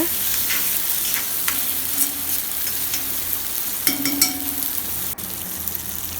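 Egg masala sizzles in a hot pan as a spoon stirs and scrapes through it, with a steady frying hiss and a few light clinks. No one speaks.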